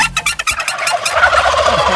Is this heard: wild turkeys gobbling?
yes